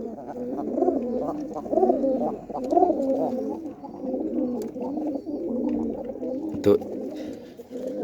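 Gola pigeons coo continuously inside a coop, a close, steady series of low rolling calls, with a brief word spoken over them.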